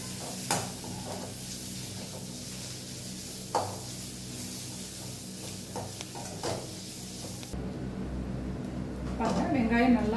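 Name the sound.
onions with chili powder being sautéed in a pan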